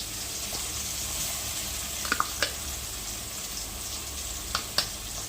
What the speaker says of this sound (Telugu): ఆ పేస్ట్ అయితే వేస్తున్నాను నూనెలో.